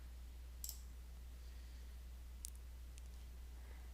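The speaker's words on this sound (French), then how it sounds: "Alors on clique sur Intégrer." Two separate computer mouse clicks sound, sharp and faint, against a quiet room with a low steady hum, while an online scheduling integration is set up.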